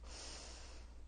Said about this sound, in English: Great big inhale